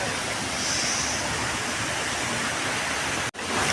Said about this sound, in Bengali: আর এইদিকে ঝর্ণা